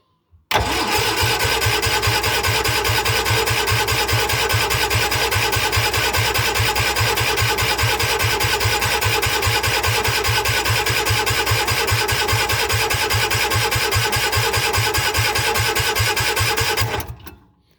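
The engine of a 1988 Argo Magnum 8x8 amphibious vehicle is cranked and runs for about sixteen seconds with a loud, fast, even mechanical chatter, then cuts off abruptly.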